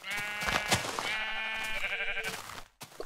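Sheep in Minecraft bleat several times in quick succession, close and loud, their wavering cries overlapping before a brief pause and one last bleat.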